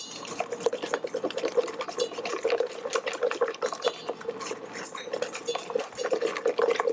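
Oil pours into a smooth whisked batter of eggs and sugar for a chiffon cake, a steady, continuous liquid trickle with faint clinks of utensils and bowl, close and moderately quiet throughout.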